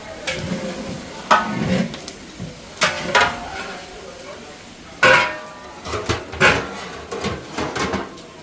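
Beef curry masala being stirred in a large cooking pot, with irregular metallic scrapes and clanks of the ladle against the pot, some faint sizzling, and people talking between strokes.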